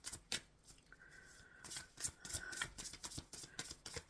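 Tarot cards being shuffled by hand, with quiet, close, irregular riffles and slides, soft taps and rustles coming in bursts, and no talking.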